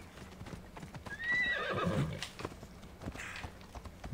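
A horse in the video game Assassin's Creed Odyssey gives a loud, near whinny over steady clip-clopping hooves, with a faint voice briefly in the background.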